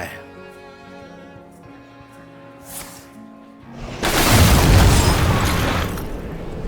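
Explosions from a Warrior deck in the card game Hearthstone, set in The Lost City of Un'Goro, with a big booming blast that fills the second half after quieter game music and sound effects.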